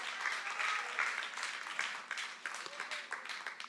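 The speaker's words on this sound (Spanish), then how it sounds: "Dale un aplauso al Señor, claro que sí." A church congregation applauding during a worship service, a dense wash of clapping that swells then gradually thins out over a few seconds, with a voice murmuring faintly beneath.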